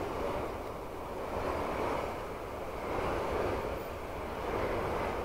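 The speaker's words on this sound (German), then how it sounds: "Das ist der Zug." A GBRF Class 66 diesel freight train on the Great Eastern Main Line in a train simulator game passes with a steady, broad rumble that swells and eases gently, with no talk.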